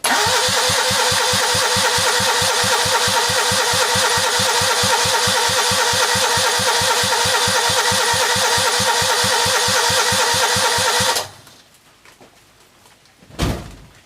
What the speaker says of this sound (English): Still not exactly sounding like an engine